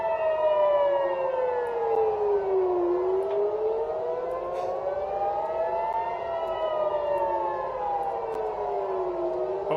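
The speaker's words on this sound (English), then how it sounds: "hearing sirens. This is supposed to be their big attack." A civil defense air-raid siren wails steadily during a missile attack alert, its pitch slowly falling and rising in long sweeps, loud and continuous with no talking.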